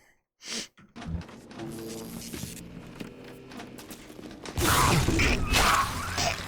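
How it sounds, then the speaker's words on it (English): A breathy gasp, then a steady mechanical whirring of a security camera in the video game BioShock, with faint ratcheting clicks, swelling louder and noisier toward the end. "Security cameras. I can hear the infernal things all around you."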